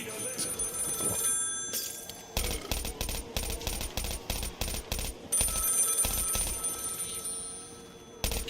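A telephone rings inside a video game, its bell sounding in repeated bursts over a steady backdrop of game music and effects, with a pause between the two ringing spells.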